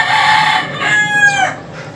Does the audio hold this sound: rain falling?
no